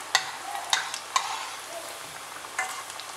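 Masala rava vada, a semolina fritter, frying in oil until golden brown, giving a close, steady sizzle punctuated by several brief scraping stirs, with no voices.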